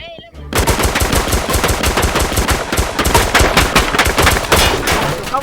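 Rapid automatic gunfire in the Roblox shooter Jailbird, a loud, dense stream of shots that barely lets up across the clip, following a short tonal sound at the very start.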